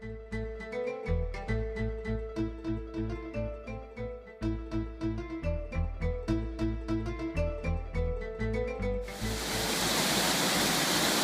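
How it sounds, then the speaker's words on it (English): Headwaters of the Jordan River at Caesarea Philippi (Banyas) pour out from beneath a rock. After a stretch of rhythmic music, the steady, loud rush of flowing water takes over for the last couple of seconds. "headwaters of the Jordan River that flow out from underneath this rock at Caesarea Philippi"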